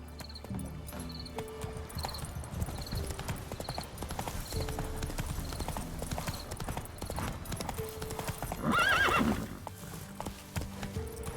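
Horse galloping in The Witcher 3: Wild Hunt, steady rhythmic hoofbeats running throughout, joined by a loud neigh near the end, with game music playing under it.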